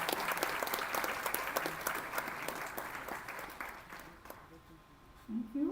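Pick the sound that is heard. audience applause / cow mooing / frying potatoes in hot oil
audience applause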